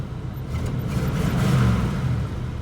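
A 1984 Oldsmobile Cutlass Supreme T-top idles and runs smoothly up close, a steady low engine rumble that swells briefly as it revs slightly, then settles again.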